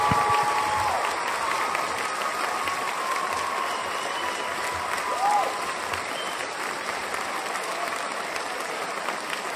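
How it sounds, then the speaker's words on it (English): An audience at a memorial tribute to Dr. Charles Thomas Cayce claps steadily for nearly ten seconds, a dense, even wash of applause that fades slightly toward the end. "A round of applause for Dr. Charles Thomas Cayce."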